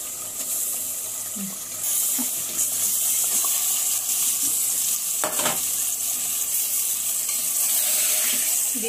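Beef pieces drop into fried spiced masala in hot oil for a beef and chana dal curry, setting off a loud, steady sizzling hiss with a few soft clinks from stirring.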